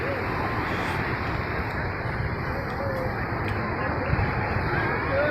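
Sea waves wash onto a shore in a steady broadband rush, with wind buffeting the microphone and faint voices in the background.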